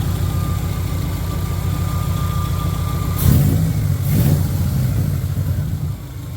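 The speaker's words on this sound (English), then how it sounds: "Get you the exhaust note." Close, loud exhaust note from a running car engine suspected of an O2 sensor fault: an even idle rumble broken by two quick revs a second apart before it settles back down.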